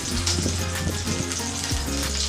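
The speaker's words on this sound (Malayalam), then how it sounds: "ഒരു പാൻ വെച്ച് ഞാൻ ചൂടാക്കിയിട്ടുണ്ട്. അതിലേക്ക് ഒരു 2 ടേബിൾ സ്പൂണോളം ഓയിൽ ഒഴിച്ചു കൊടുക്കാം." About two tablespoons of oil sizzling in a preheated pan, a dense, continuous close crackle with a low steady hum beneath, no talking.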